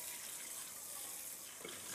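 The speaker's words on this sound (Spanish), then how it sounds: "Con esa misma lavo las ollas." Water runs steadily from a tap while pots are washed, a constant close hiss and splash with a brief clatter near the end, no talking over it.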